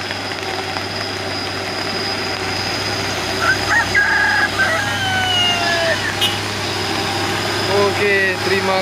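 A heavy 6x4 palm oil trailer truck engine drones low and steady as it climbs a hill in heavy rain, with brief squeaks and rattles rising over the rumble.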